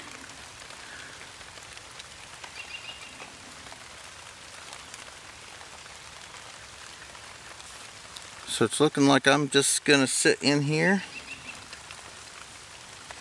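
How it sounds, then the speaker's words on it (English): Steady rain patters on a shelter during an overnight camp-out, a continuous soft hiss throughout, with someone speaking close by partway through. "find out how well this shelter works in the rain"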